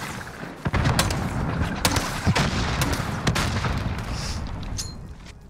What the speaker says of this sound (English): We got him with the grenade